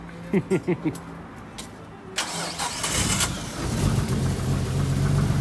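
A Nissan R32 four-door with an RB25 engine starts up after a few sharp cranking pulses, then idles and revs in a rising rough roar close by, with people talking.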